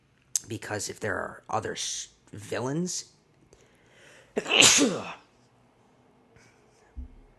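A single loud sneeze erupts close up, following a stretch of someone talking, then quiet.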